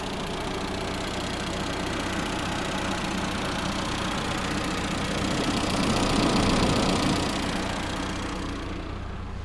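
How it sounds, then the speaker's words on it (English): A 2000 classic Mini Cooper's A-series engine idles with a steady, rough drone and a clattery mechanical tick, swelling slightly louder near the end before easing off. "it's an A-series engine. They are noisy engines, just by nature."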